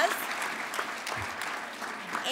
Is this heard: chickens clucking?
no